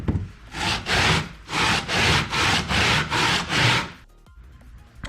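Abrasive scraping and sanding across a King Kong sculpture to level its surface, in about seven steady rhythmic strokes with brief pauses, close and fairly loud, then a quieter tail.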